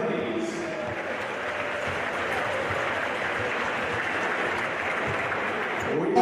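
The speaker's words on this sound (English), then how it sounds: "Round of applause for both teams, please." Sustained crowd applause after a men's NBL1 basketball championship game between Nunawading and Bendigo, dense steady clapping filling the arena without a break, swelling slightly at the very end.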